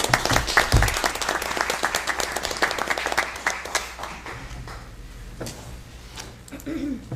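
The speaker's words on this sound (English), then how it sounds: "let's give him a round of applause like we normally do" Applause at a city commission meeting, with a room of people clapping steadily and fairly close, thinning out toward the end with a few scattered claps and faint voices.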